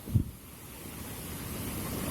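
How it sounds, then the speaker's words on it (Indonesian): Ocean surf rolls over a coral reef on an Aceh beach, a steady broad wash with heavy wind noise on the microphone and a brief thump at the start. "apa ngerinya ombak itu ngehancurin karangnya, ngelewatin karangnya"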